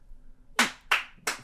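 Three crisp, sharp hand claps spaced evenly about a third of a second apart, close and clear in a quiet room, struck to sync an interview recording.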